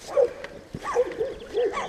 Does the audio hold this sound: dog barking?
yes